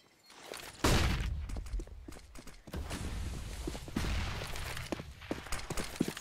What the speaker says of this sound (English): The auto sniper just lines them up.